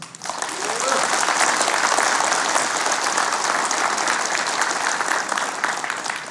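A crowd at a book launch event for Lee Jae-man claps loudly and continuously, a full dense roar of applause rising within the first second and holding steady throughout.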